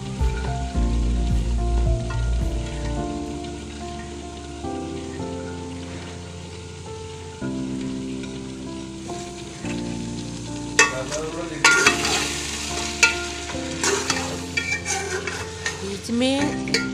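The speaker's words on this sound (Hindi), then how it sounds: "बीच में थोड़ी देर के बाद सालन को हिलाते रहना है" Mungre curry (salan) frying in a pot makes a constant bubbling sizzle, with stirring clatter and scraping that grow louder and busier toward the end.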